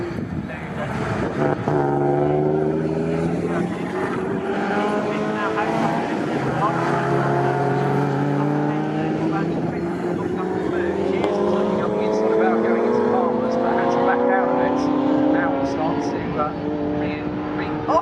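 Pre-1993 and pre-2003 touring cars, a Peugeot among them, race side by side at Snetterton circuit. Several engines rise and fall through their gears in close, overlapping sweeps while a commentator talks excitedly over them.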